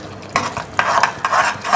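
Yogurt gravy with oil separating, stirred in a pan as it bubbles, giving a few bursts of scraping and sizzle against a quieter simmer, with no talk.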